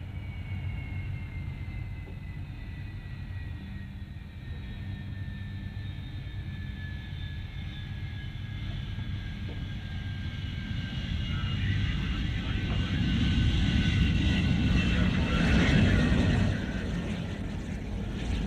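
A jet aircraft on a test flight roars past at a distance, its whine sliding downward as the rumble swells toward the end, then eases off.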